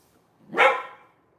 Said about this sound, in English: she better not bark this whole time